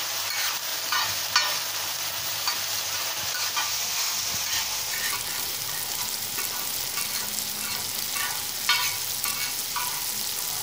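Onions and tomatoes fry in a pan for Mumbai street-style butter pav bhaji, a continuous close sizzle broken by repeated scraping strokes of a spoon stirring the mixture, with no talking.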